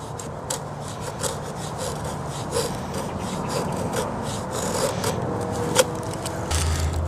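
A knife carving feather-stick shavings from wood, a continuous close scraping and rasping of the blade along the stick, steady and fairly loud, with no talking.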